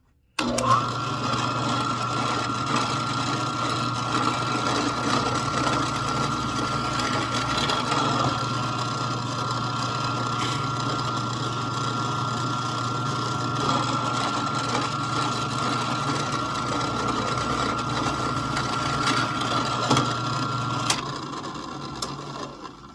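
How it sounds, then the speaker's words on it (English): A steady, high-pitched drill whines continuously at close range for about twenty seconds, its tone shifting slightly as it bores a hole into a wooden dowel before stopping. "I'm just going to drill a hole a little ways from the end here to put that pin in."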